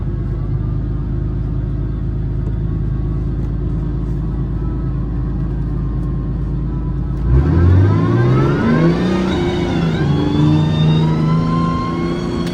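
Small Hater Kit minibike engine idling steadily in second gear, then revving up loud and close with rising pitch that sweeps upward and settles into a higher running drone.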